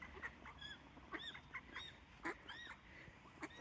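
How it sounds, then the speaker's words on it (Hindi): Ducks quack and honk at a pond in Finland, with several calls repeating in irregular bursts at a moderate distance over quiet outdoor background, no talking. "डक्स वगैरह दिखा दी"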